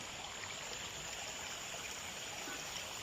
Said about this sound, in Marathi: जगबुडी नदी आहे